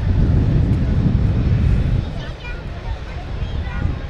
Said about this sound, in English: What a huge aircraft the Airbus A380 is